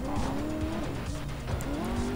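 A car in the Gangster Vegas video game drives hard with a revving engine and tires squealing in skids, loud and close throughout the short burst.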